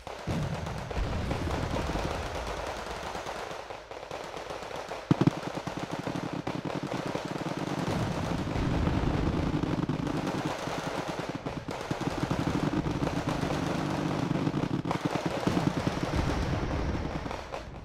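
Tunguska anti-aircraft gun firing in the Wargame: Red Dragon strategy game, with rapid, dense automatic bursts rattling on and off over a constant battlefield rumble and scattered crackling reports.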